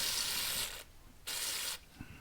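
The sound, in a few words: spraying CRC mass airflow sensor cleaner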